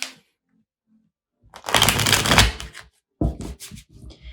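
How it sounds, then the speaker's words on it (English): Tarot cards shuffled once in a short, dense burst of riffling and flapping, preceded by a quiet pause and followed by a few lighter card handling sounds, close and fairly loud with no talking. "I'm going to shuffle one time just because I feel like that needs to happen."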